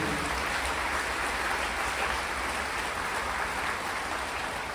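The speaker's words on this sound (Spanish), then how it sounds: "Fuerte ese aplauso a nuestra Madre Santa, la Virgen María" A congregation at a Catholic Mass applauds the Virgin Mary with a thick, even roar of clapping that fills the room without pause, steady and rain-like in texture.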